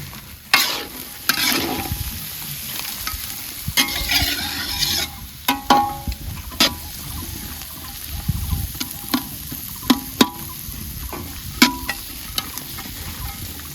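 Chopped onion and garlic hitting hot oil in a pan for a beef and potato ghati, a loud burst of sizzling followed by vigorous stirring with sharp, irregular spatula scrapes and clanks over a steady frying hiss.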